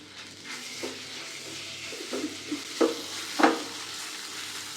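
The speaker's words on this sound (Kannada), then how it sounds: "ಜಾಸ್ತಿ ಫ್ರೈ ಮಾಡೋಂಗಿಲ್ಲ, ಸ್ವಲ್ಪ ಮಾತ್ರ ಮಾಡ್ಕೋಬೇಕು." Sour Totapuri raw mango frying lightly in a pan for chitranna, a soft low sizzle broken by several stirring scrapes that grow louder toward the end.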